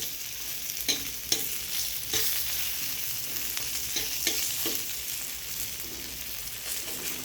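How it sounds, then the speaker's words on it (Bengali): Slit green chilies fry in a pool of oil pushed to one side of a pan. A constant soft sizzle runs throughout, broken by periodic clicks and scrapes from stirring. "যে তেল আছে ওখানেই আমি কাঁচা লঙ্কা দিয়ে দিলাম। কাঁচা লঙ্কাটা একটা ফ্রাই হবে।"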